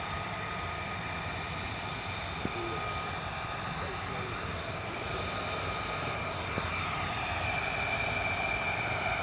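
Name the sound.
US Air Force F-35 fighter jet flying overhead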